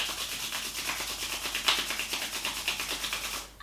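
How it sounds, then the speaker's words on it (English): Palms rub briskly together at the close of a yoga session, a close, rhythmic dry swishing repeated in quick strokes for several seconds before stopping. "Rub your palms."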